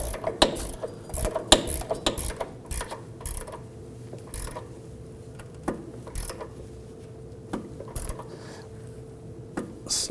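A wrench tightens the front sway bar link nut on a 2008-2011 Ford Focus, giving sparse metallic ratchet clicks and short clanks over a quiet workshop background.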